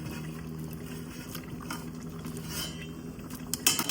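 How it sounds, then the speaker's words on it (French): A Congolese sauce with beans simmers in a pot on the stove, giving a steady low bubbling under faint clinks of utensils and pans, with one louder clatter near the end. "Je vais laisser encore mijoter"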